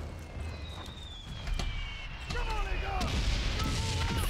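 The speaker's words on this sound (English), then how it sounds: "Fire the cannons?" Booming cannon blasts and scattered gunfire from the video game Valiant Hearts, mixed with whistling tones and low rumble.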